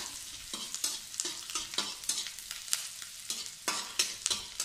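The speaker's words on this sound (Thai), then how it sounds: "ใส่กระเทียมสับลงไปค่ะหอมใหญ่ค่ะ ผัดให้กระเทียม" Chopped garlic and onion stir-fry in a pan, the spatula scraping in a quick, regular rhythm of repeated strokes over a low sizzle, close and clear with no voices.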